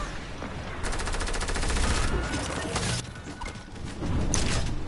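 Rapid automatic gunfire rattles continuously in the Roblox-style shooter Arsenal as a recycler is shot, loud bursts with a brief lull before the firing resumes.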